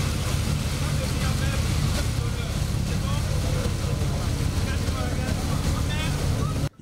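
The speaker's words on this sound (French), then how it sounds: "se bercer du son frileux produit par le bruit des moteurs au contact de l'eau" Motorboat engines run on the sea off Benin in a steady, close, low drone mixed with water rush and wind buffeting. A voice speaks over it, and the sound cuts off abruptly at the end.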